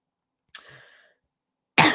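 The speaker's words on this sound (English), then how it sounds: "I just have a cough." A single short cough, close and fairly loud, from a presenter during a livestreamed tech talk, followed after a pause by a sharper second burst of coughing or throat clearing.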